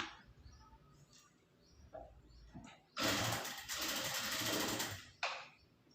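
A sewing machine stitches a blouse neck piece, quiet handling sounds first, then a loud close run of rapid stitching for about two seconds, and a short final burst.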